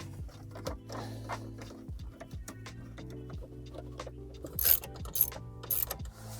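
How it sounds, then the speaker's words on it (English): Screws are driven back into the dashboard of a MINI Cooper S during a Harman Kardon radio upgrade, heard as repeated close ratcheting and clicking with occasional sharp higher clicks. "Put these screws back in."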